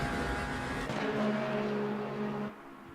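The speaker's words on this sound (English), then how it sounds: "Getting by a GT3 car." A GT3 race car engine roars in a racing game at Monza, a loud sustained drone that shifts pitch as it passes, then drops off abruptly near the end.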